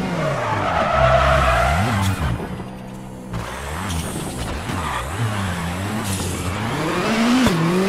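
A rally car in the WRC 8 video game brakes hard into a hairpin, with loud tire squeal and skidding, the engine note dropping and then revving back up as it exits the turn.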